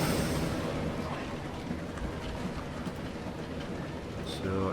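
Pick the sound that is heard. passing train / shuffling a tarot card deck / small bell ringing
passing train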